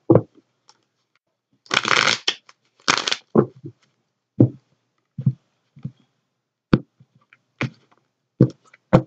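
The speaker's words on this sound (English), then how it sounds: "Okay, one more shuffle, Spirit is saying." A deck of tarot cards is shuffled by hand in brief riffling bursts and scattered sharp taps and slaps, close and otherwise quiet.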